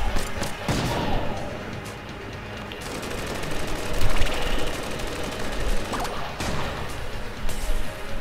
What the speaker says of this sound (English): That's a lot of bullets thrown my way.